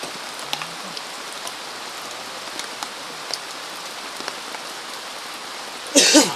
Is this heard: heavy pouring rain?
yes